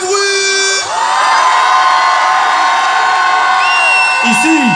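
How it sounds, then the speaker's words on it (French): A concert crowd at the back of a venue cheering, whooping and shouting loudly and continuously, with a brief dip near the start before the roar swells again. "Les gens du fond, faites du bruit."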